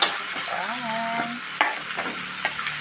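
Tofu and beans being stirred in a frying pan with oyster sauce added, a soft scraping stir over steady sizzling, close and moderately loud, with a brief clatter midway.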